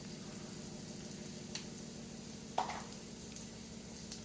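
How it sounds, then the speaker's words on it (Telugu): Chili powder and turmeric sizzle quietly in a pan with a steady, low frying hiss, broken by a couple of brief stirring scrapes; nobody talks. "దీన్ని బాగా కలుపుకుని ఒక 2 మినిట్స్ కారం పచ్చివాసన పోయే వరకు వేపుకోనండి"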